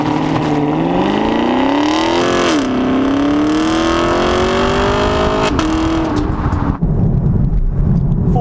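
A 2019 Camaro 2SS in track mode launches from a stop to 100 km/h, its engine loud and close, rising in pitch through the gears with brief dips at each shift before easing off.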